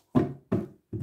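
Tarot deck cut by hand on a table, giving three soft, dull thumps in quick succession, close and fairly loud with a brief rustle after each.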